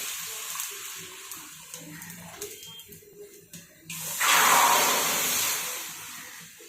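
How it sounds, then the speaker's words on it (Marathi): After a few soft clinks, water pours in a loud, steady stream close by into a hot kadhai (wok) for cooking pasta, then tapers off slightly toward the end. "याच्यामध्ये पाणी टाकून घेत आहे"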